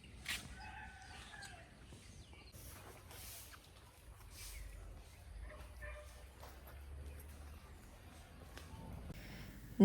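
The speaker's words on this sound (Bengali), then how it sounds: "নাম জানা অজানা অনেক অনেক পাখির ডাক ছিল প্লাস হচ্ছে মুরগি ডাক ছিল" A rooster crows at a green countryside resort among chickens and other birds, the calls faint and somewhat distant over a quiet outdoor background, with occasional clucks and a dog barking now and then.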